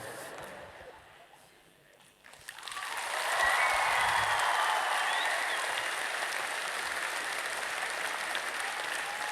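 An audience at a 2006 televised song contest breaks into sustained applause after a quiet opening, swelling to a loud, steady wash of clapping that carries on to the end.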